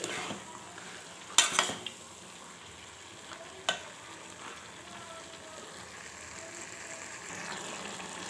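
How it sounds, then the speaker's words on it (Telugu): Steady oily sizzling of brinjal and black-eyed peas frying in oil in a pan, with a few sharp scrapes and clinks of a spatula stirring, close by and without talk. "ఇలా మొత్తం ఒకసారి కలిపేసుకొని ఆయిల్లోనే కొద్దిసేపు ఉడకనిద్దాము."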